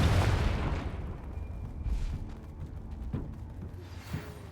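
A Confringo fire-blast spell in the Hogwarts Legacy video game goes off with a heavy explosive boom that decays into rumbling, followed by a few smaller, fainter thuds and pops.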